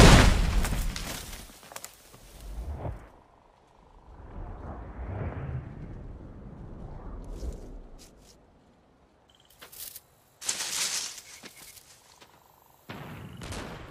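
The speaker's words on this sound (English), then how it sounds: "Did you hear that? Gunfire." Gunfire in the animated series RWBY comes as scattered sharp bursts and distant booms, separated by quiet gaps.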